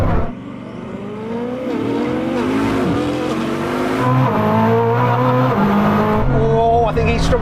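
A Bugatti Chiron Super Sport and a Koenigsegg Jesko launching from a standstill in a drag race, loud engines roaring and climbing through gear changes with tire squeal and a continuous, close roar.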